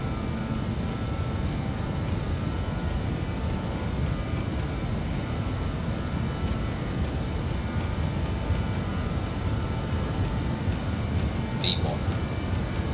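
Steady roar of BAe 146 jet engines spooling at takeoff power in a flight simulator, an even, continuous broadband hum with a faint high whine, holding constant loudness throughout.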